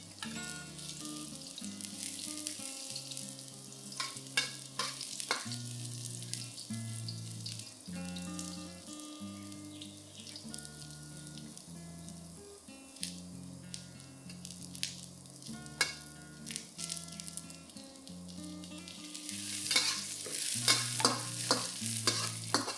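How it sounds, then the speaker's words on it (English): Ginger and garlic frying in hot oil in a wok for cumin beef stir fry: a low sizzle with intermittent stirring scrapes and clinks, under steady background music and growing busier near the end. "When the oil is hot, fry the ginger and garlic till they are fragrant."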